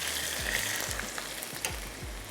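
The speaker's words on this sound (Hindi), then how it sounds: "जहाँ पर ये बर्गर्स हम फ्राई कर रहे हैं तो फिर जो सूजी के हमारे स्नैक्स हैं" Semolina snacks deep-frying in hot oil alongside fish burgers, a close bubbling sizzle with a steady crackle, accompanied by a series of low repeated thumps at a regular rhythm.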